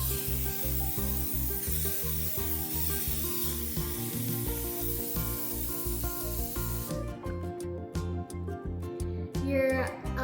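Cooking spray hisses into a muffin pan, a continuous spray lasting several seconds, followed by a few shorter bursts against background music.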